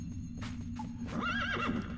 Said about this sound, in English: Oh, horse.